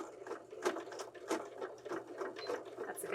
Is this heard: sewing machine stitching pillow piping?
yes